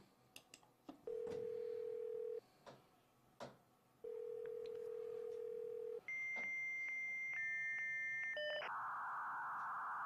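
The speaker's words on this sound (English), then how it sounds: "This modem is so slow." An old dial-up modem starts with a few clicks and a dial tone, then runs through the handshake: steady tones shifting to layered beeps and ending in a loud burst of hissing static.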